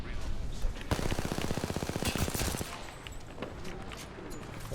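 A rapid burst of automatic gunfire in the video game Apex Legends, loud and close, followed by scattered single shots and game noise.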